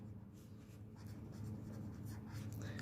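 Chalk or marker scratching across a board, a steady close run of short strokes over a low room hum, with no one talking.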